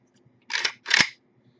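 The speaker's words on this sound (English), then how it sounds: "just push down and sometimes even do a little bit of left or right rocking motion in the back, and it just clicks right in place" Two quick, crisp metallic clacks in close succession as an AK-47 rifle part snaps into place, close and clear against near silence.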